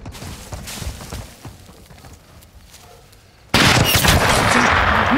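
Gunfire in the video game Call of Duty Modern Warfare 2, scattered quieter shots and battle noise, then a sudden loud sustained burst of fire near the end.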